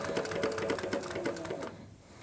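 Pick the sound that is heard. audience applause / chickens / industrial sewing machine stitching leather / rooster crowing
industrial sewing machine stitching leather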